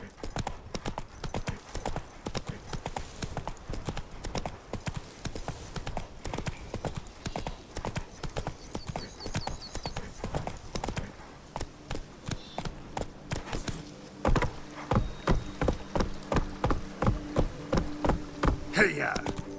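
Roach, the horse in The Witcher 3, galloping with rapid, continuous clip-clop hoofbeats close by, growing louder and more pronounced toward the end, with speech faintly under them.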